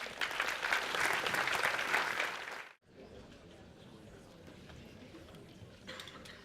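An audience claps in welcome as a speaker is introduced at a brand summit, with dense, loud applause for about two and a half seconds that cuts off abruptly, followed by quieter room noise and faint murmuring.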